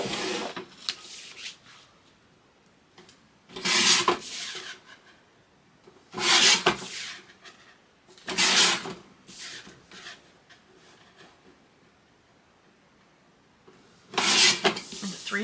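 Red paper being cut into 3-inch strips with a trimmer for a mouse-themed Christmas album and keepsake box, giving four or five separate rasping slices spaced a few seconds apart, close and clear in a quiet room.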